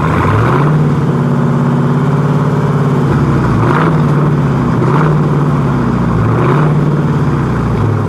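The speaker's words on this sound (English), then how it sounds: "Go ahead, give it a rev, Larry." A 2020 Plymouth Hemi Cuda V8 engine rumbling loudly up close, rising in several repeated revs over a deep idle.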